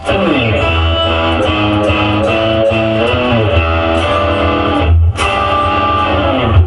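Loud, bright electric guitar strumming full chords as upstrokes in a steady repeated rhythm, with a short break near the end before the chords continue.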